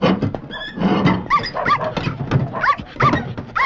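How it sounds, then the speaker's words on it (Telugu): A furry pet dog barks and whimpers in a comic Telugu television scene, giving repeated yelps and whines, loud and close, with thumps in between and no talk over it. "బొచ్చు కుక్క ఒకటి ఉంది, ఉండండి చెప్తా."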